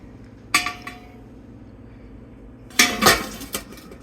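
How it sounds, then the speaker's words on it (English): A metal lid goes onto a water-bath canning pot holding jars: a sharp clink, then a couple of seconds later a louder clattering rattle of metal on metal with a few small after-clinks, close by. "So put the lid on."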